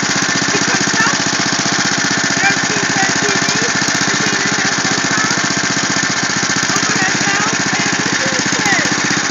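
A Yard Machine lawn mower engine runs steadily at close range, a loud, even mechanical drone with a rapid pulsing beat that stays constant throughout.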